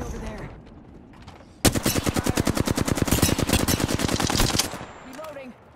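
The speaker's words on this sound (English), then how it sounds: "Taking fire. Bad boys are shooting at me." Sustained rapid burst of automatic gunfire in a video game, loud and close, a long continuous rattle of evenly spaced shots after a quieter start, with faint talk nearby.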